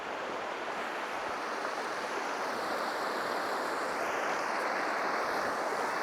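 A river runs steadily at the Hafod Estate in Wales, its continuous broadband rush holding an even, moderately quiet level throughout with no talking.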